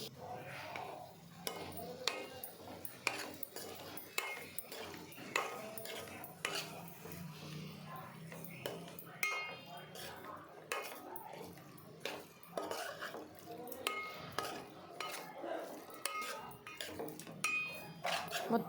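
Prawns are stirred with turmeric and salt in a pan for a prawn curry, with repeated scraping and clinking of a metal spoon against the pan, irregular and close, with a voice speaking now and then.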